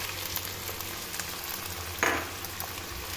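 Browned onions with garlic-ginger paste, tomatoes and green chillies sizzle in a pan, a steady crackling fry with a brief louder hiss midway as ingredients are stirred in.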